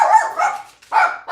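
Small dogs bark indoors in two quick yappy bursts, loud and close, with a short pause between them.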